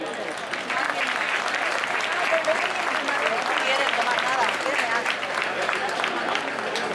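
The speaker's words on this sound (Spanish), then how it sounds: "Un aplauso, por favor." An outdoor crowd claps through a street dance performance in a festival setting, dense continuous applause that stays loud from start to finish.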